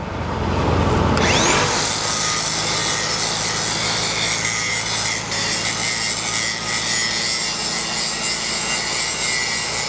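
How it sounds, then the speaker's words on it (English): A grinder is worked across the root pass of a pipeline weld, spinning up after a second into a loud, steady, harsh abrasive roar that continues without pause to the end. "I'm gonna grind my side, he's gonna grind his."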